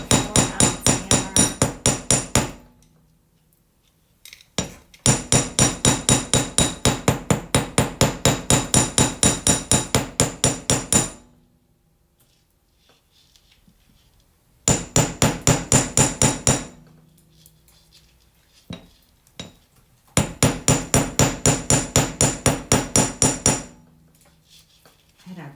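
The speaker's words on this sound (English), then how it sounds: "4-ounce hammer." A 4-ounce jewelry hammer strikes wire on a bench block in four fast bursts of sharp, evenly spaced metallic taps, with short quiet pauses and a few isolated knocks between them.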